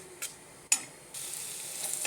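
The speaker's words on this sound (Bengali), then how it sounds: "মাংস ভাজার তেলে পেস্ট দিয়ে দিলাম।" Spice paste drops into leftover oil from frying broiler chicken: a couple of sharp clanks and a scrape, then a bright, even sizzle that rises and holds steady, close and unaccompanied by voices.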